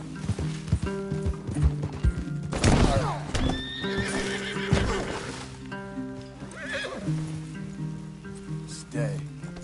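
Several horses standing among trees neigh and whinny loudly while hooves clip-clop nearby, with people talking throughout and light rain falling in the background.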